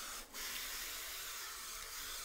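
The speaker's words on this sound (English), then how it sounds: "We're gonna give them a little bit more spray." Steady broadband hiss of an olive oil spray onto bread, a short continuous spritz with a brief dip near the start, close and moderately loud.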